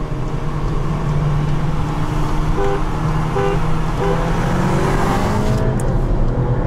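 A 2019 Kia Proceed GT drives at speed with a loud, steady engine drone and road roar throughout, rising slightly in pitch as it accelerates, with no talking.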